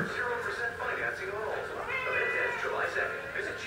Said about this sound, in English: Ignore that fat cat.